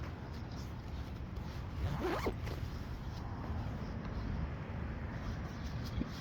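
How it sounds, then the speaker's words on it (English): A backpack being zipped up outdoors, a quick rasping zip stroke or two standing out over steady low background rumble and faint traffic. "I gotta zip up my backpack"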